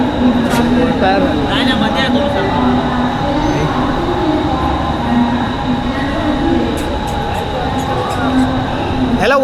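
Mumbai to Goa passenger train running steadily, a loud continuous rumble and rattle of wheels on rails heard from on board, with brief squeals and people talking over it.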